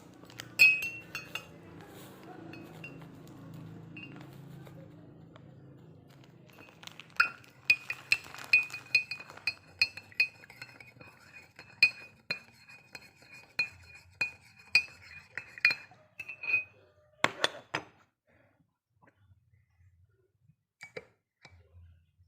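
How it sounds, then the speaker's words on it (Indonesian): A metal spoon stirs salt into water in a glass, producing a sparse run of bright clinks and taps against the glass after a quiet start, some rapid and some spaced apart. "masukkan 1 sendok garam dan aduk perlahan-lahan sampai merata"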